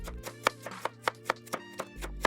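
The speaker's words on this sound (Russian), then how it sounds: "И режу капусту тонкой длинной соломкой." A knife slicing Napa cabbage into thin strips on a board, giving a steady run of sharp, evenly spaced chopping taps over a low background hum.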